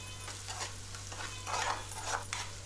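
Ginger garlic paste frying on low heat with chili powder, salt and turmeric for a potato capsicum korma gives off a soft, steady sizzle with faint stirring scrapes in the pan, quiet and continuous, with no talking.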